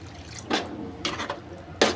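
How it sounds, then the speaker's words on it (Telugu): A glass of water poured into potato curry cooking in a pan: a few brief, soft splashes and gushes, fairly faint against low kitchen background noise. "ఇప్పుడు ఇందులో 1 గ్లాస్ వాటర్ పోసుకుందామండి."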